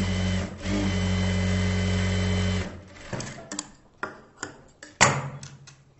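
A sewing machine stitches a blouse cross belt, its motor whirring in a steady run for a few seconds, then breaking into separate clicks and short bursts as the fabric is handled.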